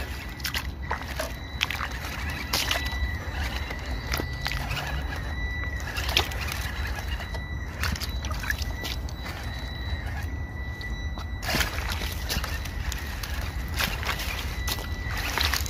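A 1/18 scale SG 1802 RC trail truck drives through water on a trail, its small motor whining steadily amid splashing, sloshing and clicks, with no talking.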